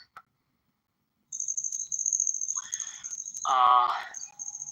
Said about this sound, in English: I'm really digging the cicadas.